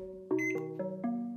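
An oven timer in a Garfield horror game sounds as lasagna goes in: a short sequence of about four clear electronic beeps at shifting pitches, crisp and close, with nothing else around them.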